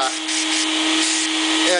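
Dustless vacuum attachment drawing air while drywall is sanded, a steady loud whooshing roar with a constant motor whine throughout.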